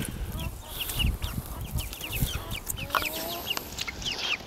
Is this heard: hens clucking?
yes